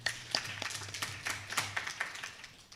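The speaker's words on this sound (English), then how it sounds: "Click clap for us." Scattered audience clapping at a chemical management launch event, individual claps distinct and fairly close, moderate and uneven over a low hum.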